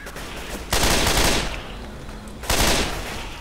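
Gunfire in the video game Left 4 Dead 2 comes as two loud, sustained bursts, each rapid-fire roar lasting about a second, close and heavy, separated by a quieter stretch with a faint background tone.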